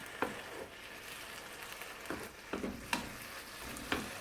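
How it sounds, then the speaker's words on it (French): Potato filling for a stuffed potato pie simmers and sizzles steadily in a pan, with a few sharper spoon or stirring clicks scattered over the soft bubbling, close and moderately quiet. "Et je laisse tout mijoter tranquillement."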